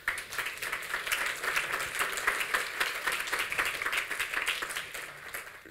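An audience at an annual meeting applauds the day's organiser, many hands clapping in a lively, rhythmic burst that stays fairly even for several seconds.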